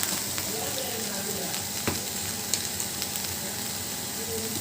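Baby corn sautés in a pan for a pepper fry, giving a steady close sizzle with a few sharp clicks from stirring, no voices.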